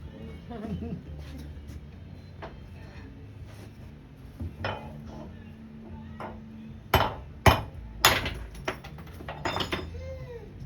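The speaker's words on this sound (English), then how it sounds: "I'm just gonna hammer the hell out of these" Sharp metallic hammer strikes ring out, sparse at first then several loud blows in quick succession near the end, with some clinking between.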